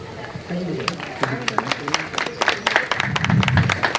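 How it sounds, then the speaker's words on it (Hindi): An audience at a gathering gives loud applause for someone speaker, with a voice talking at first and sharp separate claps building into denser clapping, mixed with voices and crowd noise. "जोरदार तालियां मैडम के लिए"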